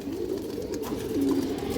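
Old-breed domestic pigeons give a continuous, throaty cooing, soft and near, with overlapping murmurs and no one talking.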